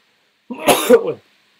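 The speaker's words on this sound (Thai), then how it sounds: "โอเคนะครับจามแล้วเนี่ย" A single sharp human sneeze bursts out close to the microphone, lasting under a second, followed by silence.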